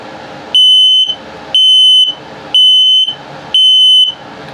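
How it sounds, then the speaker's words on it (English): A loud electronic low-battery alarm from a carbon monoxide and LP gas detector in a 2022 Starcraft Super Lite travel trailer sounds in four evenly spaced long tones, each a shrill steady beep of about half a second, with brief quiet gaps. "detects carbon monoxide and LP gas, plus it's a low battery alarm"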